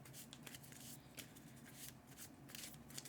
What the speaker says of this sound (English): we have to shuffle our discard pile